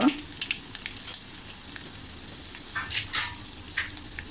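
Spices, garlic crunch, hing, cinnamon and black peppercorns for Maharashtrian dahi kadhi sizzle in a pan as they are stirred, with a steady close fry and small scrapes and clinks of the spoon.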